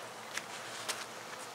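A honey bee hive, roused and very active, gives a steady broad hum with no break, and a few faint soft taps ride on top of it.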